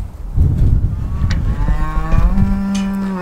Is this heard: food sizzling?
no